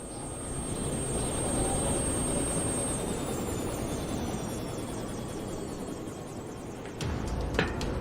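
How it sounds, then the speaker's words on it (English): A helicopter arrives in the video game Yakuza 3, a steady loud rotor whirl and engine drone holding throughout, with a sharp clatter near the end. "abruptly cut short by a helicopter whirl from the outside"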